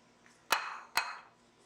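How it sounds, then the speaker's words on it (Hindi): Two sharp metallic clinks, about half a second apart, as ingredients for shammi kabab are dropped into a pressure cooker, each a bright hit with a short ringing tail in an otherwise quiet kitchen. "अब ये सारी चीजें हम कुकर में डाल देंगे"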